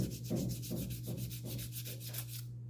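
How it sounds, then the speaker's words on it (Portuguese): Fine sandpaper rubs over a small plaster Easter egg in steady back-and-forth strokes, a soft rhythmic scratching heard close up with a low background hum. "Eu venho com uma lixa fina e vou passando suavemente sobre a peça"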